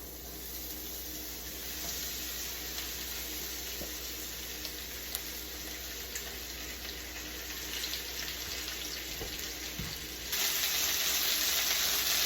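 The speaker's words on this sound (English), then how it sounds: "we're gonna sear it for about 2 to 3 minutes per side" Beef sears in an oiled wok over medium-high heat for Mongolian beef, a soft, even sizzle with a few faint clicks and a brief louder burst near the end, without speech.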